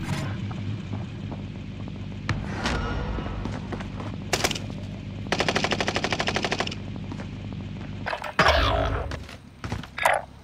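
Gunfire in the video game Call of Duty: Modern Warfare, scattered single shots and a rapid automatic burst over steady background battle noise, followed by a loud explosion-like impact and a few more shots.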